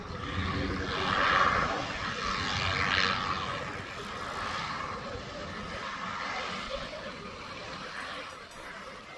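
Goodyear blimp engines droning steadily overhead at an airshow in Akron, Ohio, their propeller hum swelling and easing as power shifts between sides in a rocking maneuver, with a voice talking over it.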